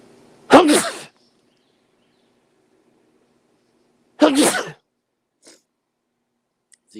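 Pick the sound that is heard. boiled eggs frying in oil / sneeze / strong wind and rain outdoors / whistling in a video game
sneeze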